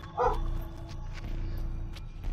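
A dog indoors lets out one sharp, loud bark near the start, then falls quiet while a steady low electronic hum carries on underneath.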